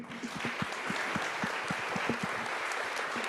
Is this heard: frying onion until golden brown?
no